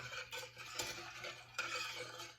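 A spoon scrapes and clinks inside a pot of Carolina mop sauce heating on a stove toward a boil, with a low steady hum running underneath and a couple of sharper knocks against the metal.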